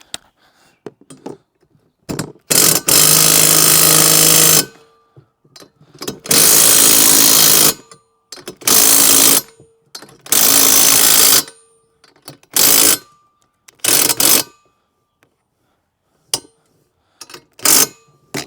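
Power tool driving and tightening a 23 mm nut and washer while assembling a Gorilla Carts 115-litre poly dump cart, loud close bursts of whirring and ratcheting, roughly seven in a row, separated by short silences.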